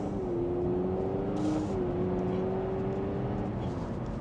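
Inside a 2026 Honda Civic Hybrid during a gentle acceleration, a steady cabin hum with engine tones that hold and slowly climb under constant road rumble, with no talking.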